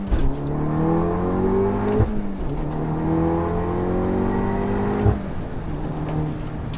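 An APR Stage 2 tuned VW Golf R accelerates hard, its engine note climbing through two upshifts marked by short breaks, loud and close from inside the car.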